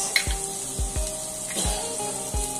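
Onion frying in hot oil with chillies in a home kitchen: a steady hiss and sizzle with soft crackles and a few low thumps and clinks of stirring, no talking.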